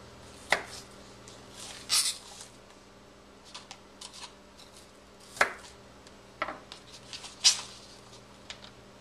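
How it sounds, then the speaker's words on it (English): A knife chopping onion on a cutting board in a home kitchen, sparse irregular knocks and scrapes, close but fairly quiet against a steady low hum. "I'm cutting up some onion"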